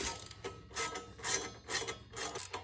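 Ratchet wrench tightening 17 mm nuts on the guard of a Kubota BX25 tractor, a series of close, rhythmic clicking pulls repeating about every half second, with no talk.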